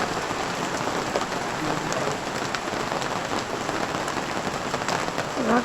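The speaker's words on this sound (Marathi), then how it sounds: "मोठा आला ना पाऊस." Heavy rain pouring down at night in a village in Sangameshwar, a dense, steady, close hiss of drops on surfaces that runs unbroken and fairly loud throughout, with no talking.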